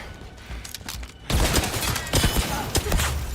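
Gunfire in the video game 007 First Light, a dense run of shots beginning quietly and then swelling into a loud, sustained barrage. A sniper threat is part of the fight.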